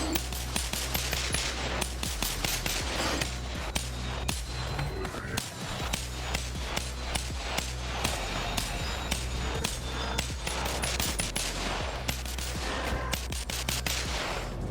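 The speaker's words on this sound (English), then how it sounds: "The next one is the Glock 22. These things sound like cap guns." A Glock 22 pistol in a BONELAB game mod fires in rapid, sharp, cap-gun-like cracks, sustained volleys of close shots with a brief pause in the middle and no talk.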